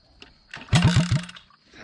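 Mini motorbike engine cranking and briefly catching, a quick rapid series of four or five sputtering pulses close by that dies out within about a second.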